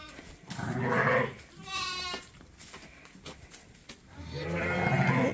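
Sheep and lambs bleat on a farm during hoof trimming, several loud wavering calls near and in turns with pauses between.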